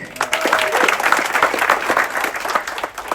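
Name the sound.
audience applause for barkeeper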